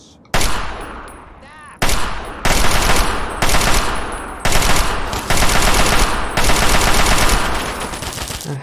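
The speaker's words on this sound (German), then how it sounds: "die meisten Schüsse bleiben an der Hauswand hängen" Automatic gunfire in Fallout 3 rattles out in loud, sustained bursts, several long volleys separated by brief pauses, with shots striking a building wall.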